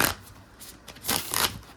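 An indie playing-card deck with a rose petal finish is shuffled up close, brief crisp riffling bursts in two or three quick passes, quiet and alone.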